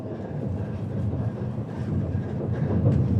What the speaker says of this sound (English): our train would travel at a top speed of 200 miles per hour or 320 kilometers per hour, taking us to Osaka